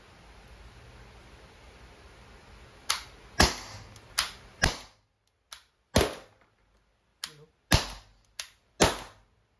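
Umarex T4E TR50 CO2-powered revolver firing rubber balls, a series of sharp, close cracks spaced unevenly, about a dozen snaps in all with quiet gaps between, no talk.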